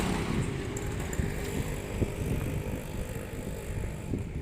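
A multipurpose bike trailer is test-ridden at speed, giving steady road rumble, rattling mechanical clatter and buffeting wind noise with occasional knocks, with no voices.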